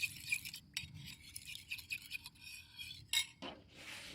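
Soy sauce and sugar are stirred together in a bowl with a utensil, giving soft clinks and scraping against the bowl in short, quiet strokes with small gaps between them.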